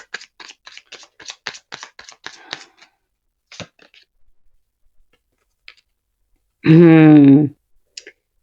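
Tarot cards are shuffled and handled in a quick run of crisp clicks and flicks, then a few sparse taps, with a short burst of speech near the end.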